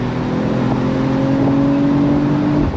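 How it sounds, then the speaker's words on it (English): A 2025 Mercedes-AMG CLE53 with a 9-speed transmission accelerates in a steady, moderately loud engine drone with rising tones, quickly stepping through gear changes. "with the 9-speed GCT, fast shifts up the gears and very fast shifts down the gears"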